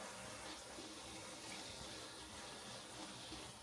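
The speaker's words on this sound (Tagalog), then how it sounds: "Kumbaga parang wiwisikan lang natin ng tubig." Water runs and splashes steadily onto chopped green onions, a faint continuous hiss of sprinkled water with no talking.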